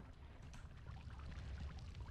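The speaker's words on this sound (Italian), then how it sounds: "sta semplicemente evaporando l'acqua per il calore" Water evaporating from intense heat in the game Noita, a steady soft hiss and fizzing wash with low rumble, continuous and building slightly louder toward the end, no talking.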